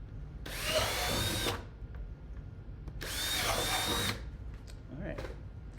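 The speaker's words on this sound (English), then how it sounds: "So I'll go ahead and drill these holes now." A power drill bores holes through buckets in two loud whirring bursts of about a second each, close up, with quiet handling noise between them.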